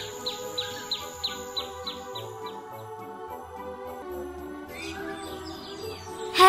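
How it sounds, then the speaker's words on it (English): Bird chirping from its nest as a sound effect in a children's story: a quick run of bright, repeated chirps early on, then another short burst, all over soft, steady background music. "There is a bird in the nest."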